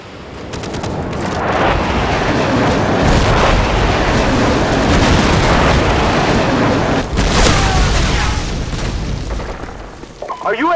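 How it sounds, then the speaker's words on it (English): Airstrike explosions in the video game Call of Duty 4 roll in as a continuous barrage of heavy booms and rumbling blasts, loud and sustained for several seconds, easing off near the end. "Friendly airstrike on the way!"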